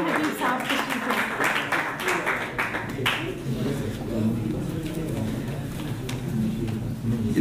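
An audience claps to welcome the young poet Usman Habib to the stage at an Urdu poetry gathering. A dense burst of applause fills the first few seconds, then thins as a voice speaks over a quieter room.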